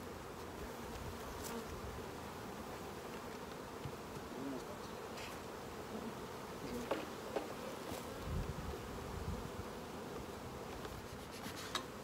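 Honeybees droning steadily around open hives in an apiary, where queenless colonies were given brood frames, a constant close buzz with faint handling sounds.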